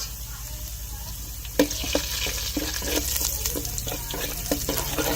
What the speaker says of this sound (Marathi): आता पहिला खेकड्याचं कालवण फोडणी टाकतो आणि मग मासा तळतो